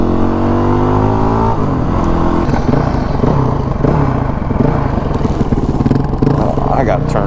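A Honda CRF450X dirt bike ridden on a road gives a loud, close engine drone that rises in pitch as it revs up, then settles into a steady rough rumble as it rides on.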